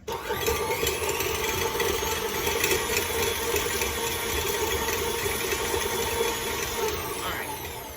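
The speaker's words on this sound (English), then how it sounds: "I have my whisk attachment on my mixer." Stand mixer fitted with a whisk attachment creaming softened butter, a steady close motor whir with a whining tone that runs unbroken for about seven seconds before tapering off.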